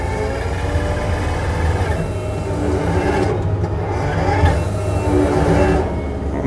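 A tracked skid steer fitted with a tree puller runs nearby with a steady loud engine drone and faint variations in load, while someone talks over it.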